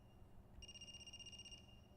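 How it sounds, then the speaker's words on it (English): A phone rings in the video game AI: The Somnium Files: a steady electronic ringtone trill lasting about a second, fairly clear over a quiet low background hum. "a phone ringing?"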